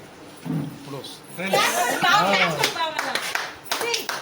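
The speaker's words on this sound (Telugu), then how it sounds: "రుటో క్లాప్ క్లాప్." Guests at a child's birthday celebration clap in short scattered bursts, mixed with lively adult chatter, a voice and a little laughter close by.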